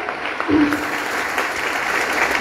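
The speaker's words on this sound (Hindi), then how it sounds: "उनके लिए जोरदार तालियां चाहती हूँ दोस्तों।" Audience applause for Ashok and Satyendra Bhatia at a business seminar: a dense wash of clapping at steady loudness, swelling slightly just after the start and holding through a short burst.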